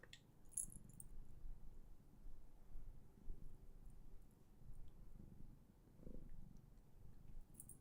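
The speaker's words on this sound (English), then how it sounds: "If you hear the motorboat, it's the cat." A cat purrs steadily up close, a low rumbling motorboat-like drone with a rhythmic pulse that runs quietly and unbroken for several seconds.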